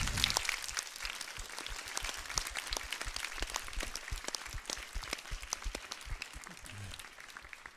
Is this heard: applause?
yes